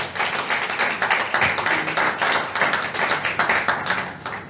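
A book launch audience claps together, a dense, steady patter of many hands that holds evenly throughout without voices.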